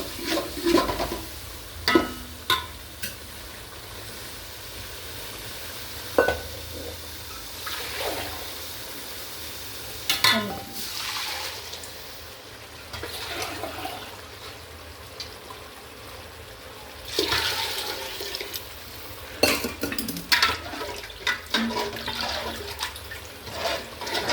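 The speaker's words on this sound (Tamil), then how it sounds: "தண்ணி ஊற்றிக்கலாம்." Water is poured and trickles into a pan of country chicken masala with chili powder, biryani masala and turmeric, producing a long flowing, streaming sound with intermittent clanks and louder surges throughout.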